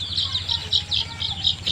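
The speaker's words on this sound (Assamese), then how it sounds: "ধৰক এই সেতি সৰু মুৰ্গীটো তাইৰ নাম ধৰক কপৌ" Local farm chickens in Assam make a quick run of evenly spaced, high clucks and peeps close by, against a low background rumble.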